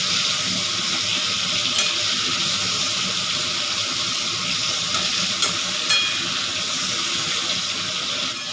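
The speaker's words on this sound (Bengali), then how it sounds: "মাছ গোটা আমার ভাজা হয়ে গেছে" Steady crackling sizzle of rohu fish frying in hot oil, continuous and fairly loud, with no voices.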